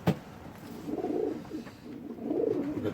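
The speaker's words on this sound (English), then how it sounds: "they're predominantly checks and blues, race type pigeons" Racing pigeons, checks and blues, cooing in a loft, two soft rolling coos a moment apart with a brief flutter or knock at the start, fairly quiet and close.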